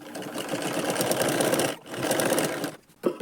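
Sewing machine running steadily to stitch a crease seam on the belt of a lined blouse, a dense continuous whir with a brief stop near the end before restarting.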